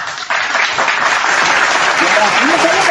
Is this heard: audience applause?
yes